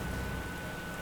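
Rain in the wartime strategy video game Panzer Corps 2, a dense, steady wash of falling rain with no gaps, loud and even.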